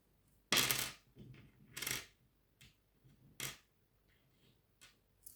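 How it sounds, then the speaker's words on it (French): A rune is drawn for a divination reading, giving a few sharp, close clicks and rattles as small pieces are shaken and set down, spaced over a few seconds in a quiet room. "je commence par le tirage d'une rune"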